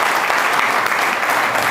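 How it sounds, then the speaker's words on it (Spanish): A workshop audience claps hard and evenly, a thick continuous wash of applause throughout. "más fuerte el aplauso y más coordinado"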